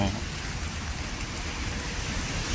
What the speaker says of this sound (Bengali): সিঙ্গাপুরে আজ কয়েকটা দিন যাবৎ প্রচণ্ড বৃষ্টি হচ্ছে, প্রচুর